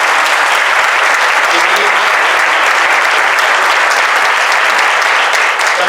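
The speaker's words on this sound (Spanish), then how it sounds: "Un aplauso también." Dense, sustained audience applause fills a formal community commemoration hall, a steady loud wash of many hands clapping without a break.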